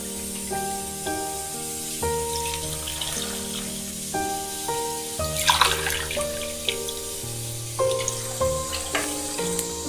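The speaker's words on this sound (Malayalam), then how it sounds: "ആവശ്യമായ വെള്ളം നമുക്ക് ഒഴിച്ചു കൊടുക്കാം." Water poured into a pressure cooker of chopped vegetables for coconut sambar, a soft steady splash and trickle running throughout with a brief louder gush midway, close by and without talk.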